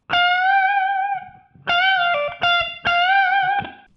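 Sustained electric guitar notes through a TONEX amp modeler pedal, a long ringing note followed by several picked phrases with a slightly edgy attack, alone and close.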